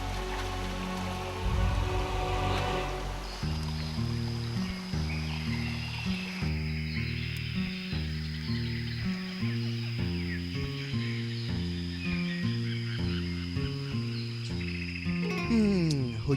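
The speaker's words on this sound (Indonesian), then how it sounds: "Hujan pun akhirnya turun juga." Rain falls steadily in the Cibereum forest, a continuous soft patter and hiss running the whole time beneath a loud, rhythmic tonal pattern of repeating pitched notes.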